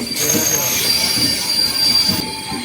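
The Jammu Tawi Express rolls into Lucknow Junction, wheels squealing in high sustained tones over a loud, continuous rail rumble throughout the short stretch.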